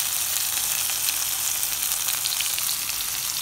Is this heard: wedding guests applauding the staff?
no